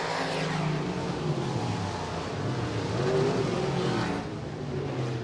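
Stock car racing engines roar continuously at Buena Vista Raceway, a loud, sustained dirt-track drone of several cars blending together, rising and falling slightly as they pass, with no talk over it.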